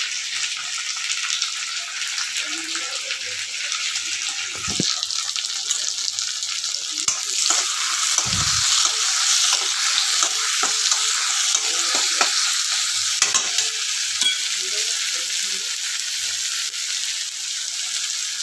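Tomatoes sizzle and fry steadily in a pan for chicken sukka, with a broad hiss running throughout and a few scraping stirs and utensil knocks near the middle, no talking.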